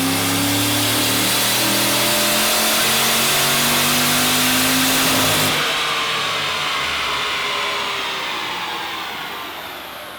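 Petrol car engine on a dyno during a power run, revving hard in a loud, sustained climbing roar that cuts off abruptly and winds down, with no talk.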